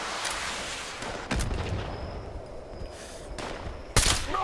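Quad Sniper Rifle gunfire in the video game Fallout 76, a few sharp, loud, booming shots spaced apart over a rumbling background.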